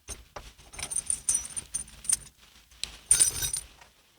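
Ignition keys jangle by the floor-mounted ignition of a 1982 Saab 900, several short metallic rattles in two bursts separated by a quiet gap, close and fairly soft.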